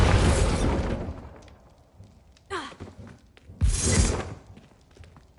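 A Bombarda spell blast in Hogwarts Legacy: a loud, close explosive burst opens the clip and decays, followed by a sharp crack and a second heavy boom with rumble trailing off.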